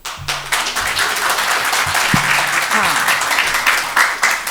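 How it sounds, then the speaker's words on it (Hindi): An audience at a professionals' meet in Delhi bursts into loud, dense clapping that runs steadily throughout, with voices and murmurs mixed underneath. "तालियां तो जोर से बजाओ।"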